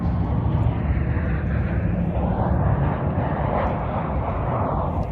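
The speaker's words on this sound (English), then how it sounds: "And watch the airplanes." A fixed-wing airplane passes overhead with a steady, broad engine roar that swells gently and holds loud throughout, with no talking over it.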